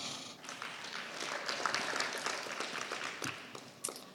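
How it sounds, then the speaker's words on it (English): An audience at the NIEA 2018 convention and tradeshow applauds with quiet, steady clapping that sounds somewhat distant, with a few sharper claps near the end. "thank you everyone for giving the round of applause"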